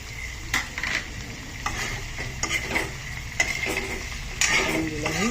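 Pork sizzles in a pan with a little tomato, fried for an Assamese dish with lai saag greens and fish. A spoon scrapes and stirs in irregular bursts over a steady close crackle, with no voices.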